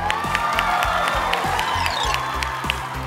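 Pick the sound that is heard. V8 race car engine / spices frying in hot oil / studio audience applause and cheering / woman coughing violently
studio audience applause and cheering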